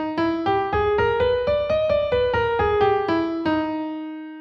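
A double harmonic scale played as a run of single musical notes, about fourteen evenly spaced tones that rise and then fall, ending on a sustained note that decays alone.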